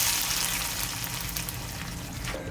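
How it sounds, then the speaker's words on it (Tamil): Tamarind kuzhambu gravy with mustard seeds and curry leaves bubbles and sizzles vigorously in a pan, a dense continuous hiss and crackle over a few seconds, no one speaking. "நல்லாவே கொதிச்சிருச்சு."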